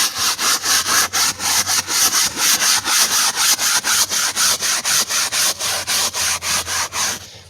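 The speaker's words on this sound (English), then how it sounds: "I'm just taking this brush and some carpet cleaner solution and just scrubbing it." A brush scrubs carpet cleaner solution into the interior carpet of a 1997 Mitsubishi Eclipse, making loud, steady back-and-forth rubbing strokes in an even rhythm of about three per second, close up with no talking.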